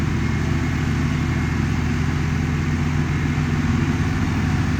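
A Swaraj tractor engine runs in a field with a maize machine, a steady, loud low rumble close by that holds an even pitch throughout with no talking.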